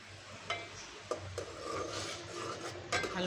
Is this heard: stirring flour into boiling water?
yes